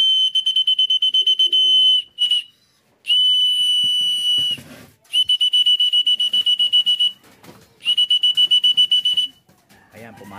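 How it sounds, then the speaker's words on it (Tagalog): Repeated shrill blasts of a pigeon-feeding whistle used to call young birds in to eat, four long tones with short gaps, loud and close, with faint rustling in between. "Kapag pumito tayo, tinatawag na natin sila, oras na para kumain."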